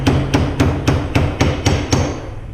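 A seal driver hammers a new fork bushing down into the fork of a 2015 Harley-Davidson Street Glide Special: seven sharp, evenly spaced metallic blows, loud and close, with no talking.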